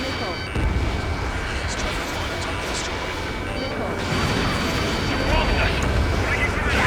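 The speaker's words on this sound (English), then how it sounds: "Hit them with AA shells and they'll come down" Anti-aircraft shells firing in the Ace Combat 7 video game, a dense, continuous rumble of bursts and blasts sustained throughout, with aircraft noise and radio chatter underneath.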